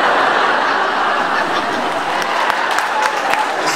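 Audience applause at a college event welcoming a new president, a steady, dense wash of clapping with scattered laughter and chatter mixed in, continuous and fairly loud throughout.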